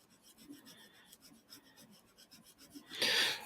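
A tool rasps repeatedly over damp 1942 comic book paper during wet cleaning, quiet close-up rubbing strokes in an uneven rhythm, ending in a louder scraping burst.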